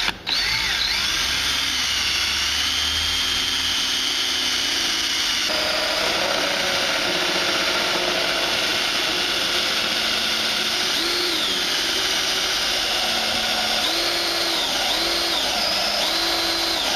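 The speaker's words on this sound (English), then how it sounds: "before we start drilling holes in here" A power drill boring holes into a Jeep Grand Cherokee bumper for backup sensors, a loud steady whine with pitch shifts and a few brief spin-ups and slowdowns, close up and sustained with no talking.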